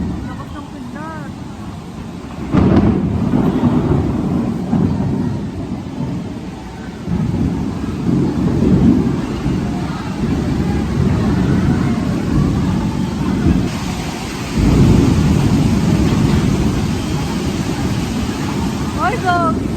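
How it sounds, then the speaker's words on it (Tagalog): A heavy thunderstorm with steady loud rain and low rumbling bursts of thunder, one strong crack near the start and another around two-thirds through, while a voice exclaims over the din. "Lakas ng kidlat."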